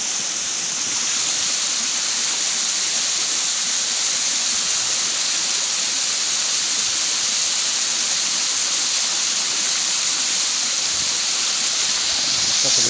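A tall waterfall over 100 feet high pours steadily in a hilly stream area, a loud, close, unbroken roar of falling water that holds the same level throughout, with no talk.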